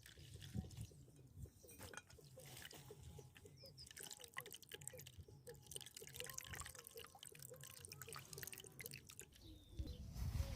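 Raw mango juice blended in a mixer is strained, giving soft, irregular drips and trickles of liquid close by, faint and continuous with no talking.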